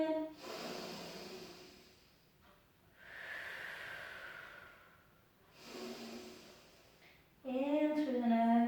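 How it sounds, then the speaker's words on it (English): Slow, audible breaths are drawn in through the nose and let out through the mouth during Pilates stretches, coming in three long soft waves with pauses between them, before a voice speaks briefly at the end. "In through the nose, out through the mouth"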